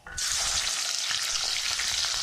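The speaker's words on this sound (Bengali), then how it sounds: "কড়াইতে রাইস ব্র্যান অয়েল দিয়ে দিয়েছি আর দিয়ে দিয়েছি গোটা জিরে আর তেজপাতা" Whole cumin seeds and bay leaves drop into hot rice bran oil in a kadai, setting off an instant, even sizzle that stays loud and steady.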